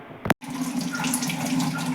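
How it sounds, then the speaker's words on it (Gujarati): Running water from a tap splashes steadily as sweet potatoes are rinsed clean of sand in a kitchen sink, preceded by a brief knock and a split-second pause. "આપણે આવી રીતે ચોખ્ખા પાણીમાં આને ધોઈ દેવાના છે"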